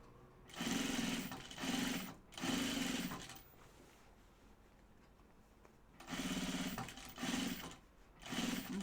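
Sewing machine stitching pajama bottoms, with several short bursts of fast mechanical whirring separated by pauses, close and fairly loud against a quiet room; no talking.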